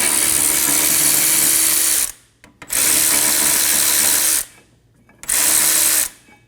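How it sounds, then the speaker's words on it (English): A power tool with a 14mm socket spins out rear caliper bracket bolts on a 2008-2015 Scion xB, three loud close bursts of whirring separated by brief pauses. "Using a 14mm socket, remove the 2 caliper bracket bolts."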